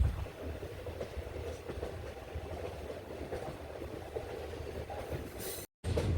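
A passenger train on the Kollam–Chenkotta line rolls along with a steady rumble and faint wheel clatter, heard from inside the carriage and ending in a sudden dropout as it enters a tunnel.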